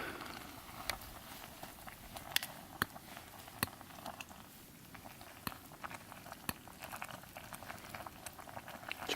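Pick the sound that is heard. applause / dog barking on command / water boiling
water boiling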